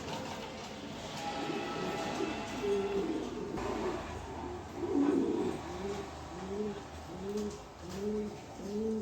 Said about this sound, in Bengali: দেখেন কবুতর পেয়ার দেখেন, নটটা একবারে বিডিং মোডে আছে, খুব ডাকাডাকি করতেছে।